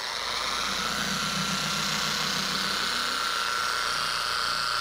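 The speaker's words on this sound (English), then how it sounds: "then we're gonna set our polisher to the slowest setting, turn it on, and start spreading this around" A car polisher runs steadily on its slowest setting, spreading compound over hazy, scratched clear coat, giving a continuous close whir with a faint low motor hum and no talking.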